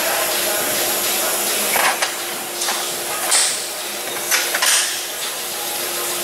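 A tool drives a T55 Torx bolt on a Genesis G70 in a rusty spot, giving a steady mechanical hiss and whir with a few brief louder bursts, close and fairly loud.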